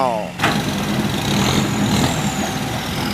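A Nissan Big M dump truck engine roars loudly and steadily while pushing up a slope, after a short voice at the start, its throaty rumble holding at high revs throughout.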